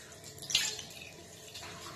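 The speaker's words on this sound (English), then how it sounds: "We're gonna add the water" Tap water runs briefly into the hands while working Snail White whip soap into a lather, a short, quiet splash against soft background noise.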